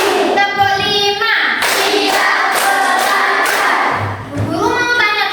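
Classroom of primary school kids clapping together in rhythm, a burst of hand claps between bouts of children chanting aloud, loud and close.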